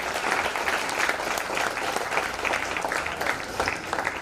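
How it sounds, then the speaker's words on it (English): Audience at a Foundation Day ceremony gives a big round of applause for the chief guest, dense continuous clapping from a large crowd, steady and fairly loud. "Let us have a huge round of applause for our chief guest."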